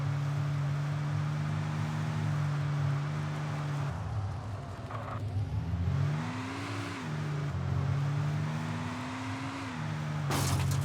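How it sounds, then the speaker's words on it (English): A rough, unhealthy-sounding car engine in the video game Alan Wake Remastered drones steadily, its pitch rising and falling in several revs, then surging again near the end; no one speaks. "This car sounds like shit."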